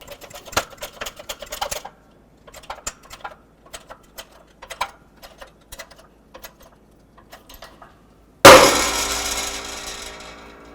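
A hammer drives the old wheel bearing out of the steering knuckle of a 2006–2012 Ford Fusion, with sharp metallic strikes in irregular groups, then a sudden loud clang and ringing rattle as it breaks free.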